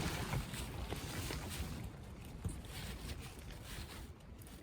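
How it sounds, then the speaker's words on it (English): Desert wind at Cottonwood Creek buffeting the microphone as a steady low rumble with gusty swells, fairly loud and continuous, with no talk. "It's windy."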